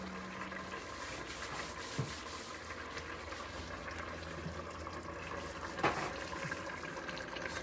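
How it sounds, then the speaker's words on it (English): Hot oil bubbling steadily in a pot while donuts are fried, a continuous close fizzing and crackling hiss with a few small sharper pops, no talking. "The bubbling action there tells me it's really close."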